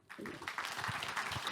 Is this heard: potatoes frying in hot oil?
no